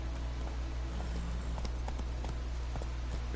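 Horse hooves in The Witcher 3 video game: a steady, even clip-clop of hoofbeats over a constant low background hum, with no voices.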